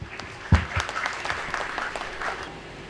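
An audience claps during a quiz segment at a public event, with scattered claps and one sharp near clap early on that settle into a moderate, short round of applause.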